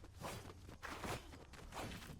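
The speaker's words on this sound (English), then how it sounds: "I think I just heard footsteps close." Close footsteps in the Fortnite Zero Build video game, a run of soft rhythmic steps spread across a couple of seconds with a steady game background underneath.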